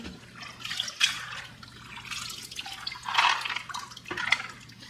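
Water rinsing the media from a Fluval 407 canister filter on a 55-gallon fish tank gives soft, intermittent splashing and dripping in a few short bursts, fairly quiet and close, with no talking.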